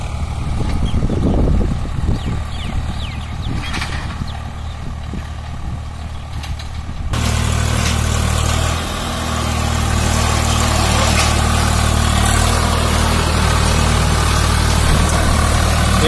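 A Swaraj 744 FE 4 Star tractor engine idles with a steady low rumble, close and fairly loud, growing fuller and louder partway through; no talk.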